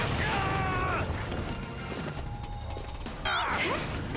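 Explosion attack from the fighting game My Hero One's Justice 2, a dense crashing burst with booming impacts and whooshing effects over busy game sound, loud throughout.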